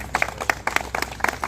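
Scattered hand claps from a small group at a State Reserve Police unit gathering, irregular and moderately soft, coming in uneven bursts.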